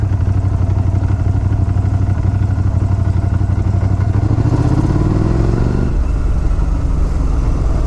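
A 2016 Motus MSTR motorcycle with a 180 hp V4 engine rides along, its loud, close engine droning steadily, then rising in pitch as it revs and abruptly dropping back near the end.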